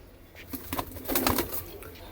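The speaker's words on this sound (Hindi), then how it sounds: "तो भाई एक कबूतर ये छोड़ा भाई, सफ़ेद है भी" A white pigeon with black wing markings, offered for sale in Amritsar, gives a short close coo amid light rustling, with some background voices.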